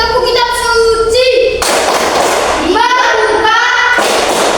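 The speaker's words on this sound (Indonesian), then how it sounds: "Tepuk kitab suci." Children's hands tapping on a Bible during a religious lesson, a dense burst of slapping taps between chanted, sung phrases from a group of young voices.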